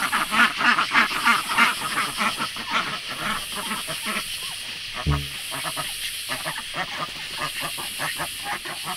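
Ducks quack in a broad, busy chorus at dusk while being shut in for the night, with a loud, close burst of quacking at the start that settles into steady chatter and a brief thump midway.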